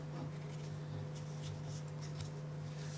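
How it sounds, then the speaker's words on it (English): A dollar bill being folded and creased by hand for origami, giving soft, close paper rustling and brushing strokes over a steady low hum. "we'll create a new crease"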